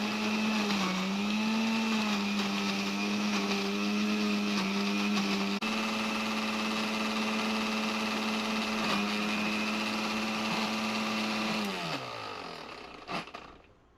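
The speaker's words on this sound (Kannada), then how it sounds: "ನಾನು ಇದನ್ನು ಮಿಕ್ಸಿಗೆ ಹಾಕಿ ರುಬ್ಕೊಂಬರ್ತೀನಿ" A kitchen mixer grinder whirs steadily as it grinds raw mango chutney with green chillies and spices. The loud, continuous motor whine shifts pitch slightly, then winds down and stops near the end.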